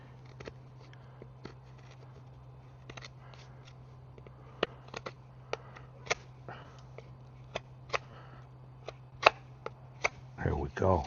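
A knife cuts a V-notch into a wooden bow drill fireboard outdoors, giving a steady series of sharp, faint scraping clicks against a low constant hum, with a louder rustle at the end.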